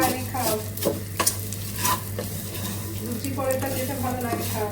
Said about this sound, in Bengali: ঘি দিয়ে দিয়ে সেমাইটা ভেজে নিচ্ছি একটু